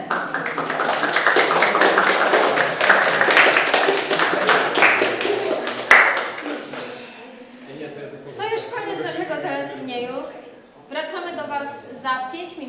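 Studio audience applause on a Polish game show, a dense burst of clapping lasting several seconds before fading as a host speaks over it.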